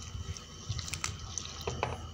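Water poured into a gram flour mixture for dahi kadhi gives a close, gentle splashing trickle with a few distinct drips and plops, soft and steady over about two seconds.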